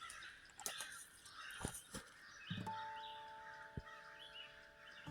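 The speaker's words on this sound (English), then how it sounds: "Those crows are happy we're here. They're making fun of us" Several crows caw in short, sharp bursts at irregular intervals over a riverbed in Mohican State Forest, Ohio, fairly distant and faint, with a steady tone ringing briefly in the background.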